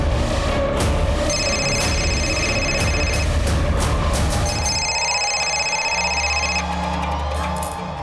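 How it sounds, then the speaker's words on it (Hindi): A telephone rings in two long electronic bursts over a steady background bed, loud and close, with no talk during the ringing, in a Crime Patrol crime drama scene. "अरे मेरा फोन बज रहा है"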